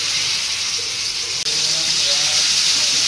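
Oil sizzles and hisses on a hot stone dosa griddle before fish is fried, a steady loud crackling hiss with one brief dropout midway, no talking.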